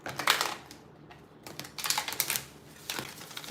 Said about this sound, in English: just so you see that we are shuffling